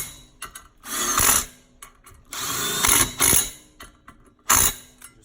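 An impact wrench drives clutch bolts on a clutch tool setup, firing in three or four loud, close bursts of rattling hammering separated by short pauses.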